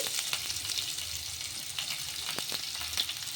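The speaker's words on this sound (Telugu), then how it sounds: "నూనె వేడెక్కిన తర్వాత ఇందులోకి జీలకర్ర, ఆవాలు, అలాగే పొడుగ్గా కట్ చేసి పెట్టుకున్న ఆనియన్స్ని వేసుకోవాలి." Cumin, mustard seeds and long-sliced onions frying in hot oil, a steady close sizzle with a few small crackles and pops, no voices.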